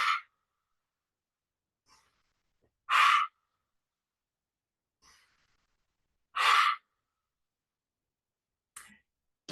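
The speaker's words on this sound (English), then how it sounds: "So starting to breathe in." Slow, deep breaths during a yoga class, with three long, loud exhalations spaced a few seconds apart and faint inhales in between, heard close up in a quiet room.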